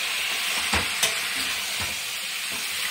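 Garlic, ginger and tomato paste sizzles steadily in a pan, a continuous close frying hiss broken by a few soft stirring scrapes.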